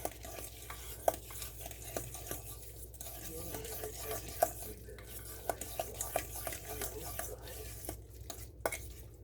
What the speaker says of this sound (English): now we'll mix all this together